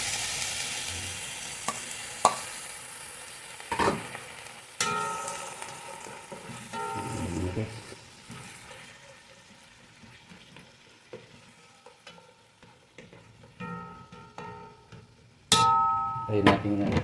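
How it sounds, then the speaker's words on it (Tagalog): Tomatoes go into a pot of sinigang na isda and get stirred: sharp clanks and knocks of utensil on pot, then soft bubbling and sizzle between intermittent stirring bursts. "Ilagay ko na itong kamatis."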